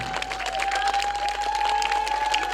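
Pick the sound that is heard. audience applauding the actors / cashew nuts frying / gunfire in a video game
audience applauding the actors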